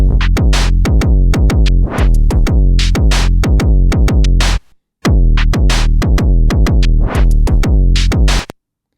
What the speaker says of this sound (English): So let's start with the drums.